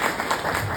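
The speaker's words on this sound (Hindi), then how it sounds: "बैठ ताली बजा दीजिए।" A seated audience at a talk or lecture applauds with a thick, continuous burst of clapping, loud and close, with no break in the short span.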